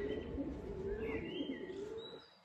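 Pigeons coo in a low, steady, rolling murmur from fairly close by, with a few thin chirps and whistles on top. The sound is quiet, and no one speaks.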